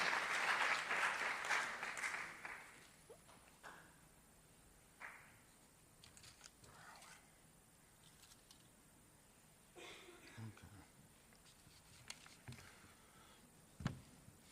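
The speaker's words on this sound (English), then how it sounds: "I would love to have a round of applause for Lily Souther, even though she's not here" Applause fills a school final assembly and scholarship awards ceremony, loud at first, then quickly dying away into a quiet hall with scattered shuffles and faint knocks.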